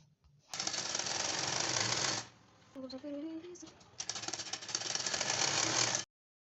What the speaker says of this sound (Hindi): कंधे से कंधे को सबसे पहले हमें सिलाई लगाकर अटैच कर लेना है